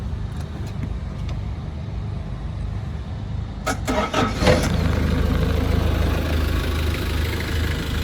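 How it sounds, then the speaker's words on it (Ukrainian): A Nissan QD32 diesel engine in a Nissan forklift cranks briefly from cold, catches, and settles into a steady, loud, close idle with no talking. "Двигун Nissan QD32, один з найпростіших. Вмикаємо на холодно."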